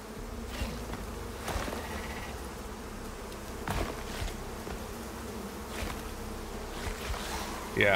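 Bees buzz continuously inside a dark cave in the survival video game Icarus, a steady insect hum with occasional louder passes close by and no talk over it.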